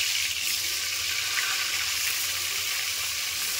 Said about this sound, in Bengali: এবার আমি একে একে পটলগুলোকে তেলে ছেড়ে দেব